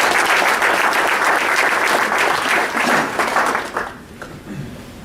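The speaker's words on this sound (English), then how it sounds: "I'd like to give them a round of applause as well." Audience applause for a company's corporate support team, a loud, dense wash of clapping that holds steady for several seconds before tapering off and thinning out near the end.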